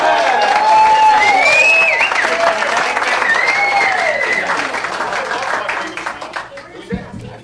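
Audience applause and cheering at a live show greeting a band, dense clapping with whistles and whoops, loud at first and tapering off toward the end.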